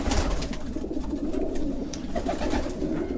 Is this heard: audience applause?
no